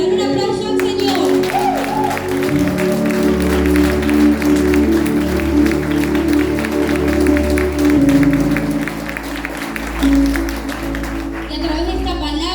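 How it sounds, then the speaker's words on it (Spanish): A church congregation claps for the Lord in a loud, continuous burst of hand-clapping that carries on for over ten seconds above sustained keyboard chords. "Dale un aplauso al Señor."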